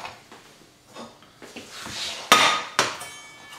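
A frying pan lifted out in a home kitchen while cooking fish croquettes, heard as soft knocks and rustles, then two sharp, bright metal clanks close by near the end, with no talking.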